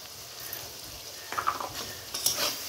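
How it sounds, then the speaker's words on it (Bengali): Shrimp fry in oil with cumin and chili powder, giving a soft steady sizzle, with several sharp stirring and utensil clinks near the end; no one talks. "একটু জিরে গুঁড়ো আর লঙ্কা গুঁড়ো দিয়ে দিব।"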